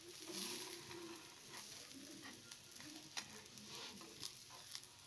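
Batter spread over a film of cooking oil on a hot tawa at medium flame, giving a steady soft sizzle with faint crackles and a few small pops throughout.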